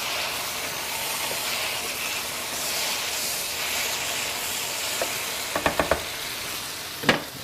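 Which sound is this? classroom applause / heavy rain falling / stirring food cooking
stirring food cooking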